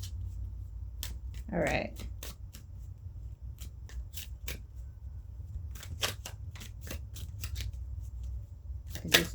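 A tarot card deck being shuffled in the hands, with irregular riffles and soft slaps over a steady low hum, fairly close, and a voice speaking briefly near the start.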